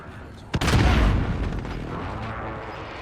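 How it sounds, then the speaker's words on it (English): A precision airstrike in Modern Warfare lands after a sharp crack, rolling into a heavy, booming explosion close by that rumbles and slowly fades over a couple of seconds. "Enemy precision airstrike inbound."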